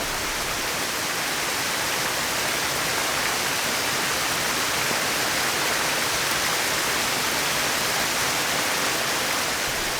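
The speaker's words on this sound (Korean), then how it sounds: "세상의 온갖 시름을 씻어낼 듯 세차게 떨어지는 은빛 폭포." A silvery waterfall pours down forcefully in a steady, unbroken broadband roar that stays loud and even throughout, with no voices heard.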